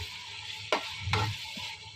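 Whole garam masala dry-roasting in a pan for a chana pulao, a soft steady sizzle with two sharp scraping stirs close by.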